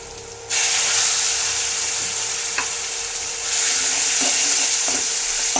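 Sambar powder sautéing in a pan for Tamil-style sambar, a loud steady sizzle and hiss of frying with occasional faint scrapes and stirs, no voices.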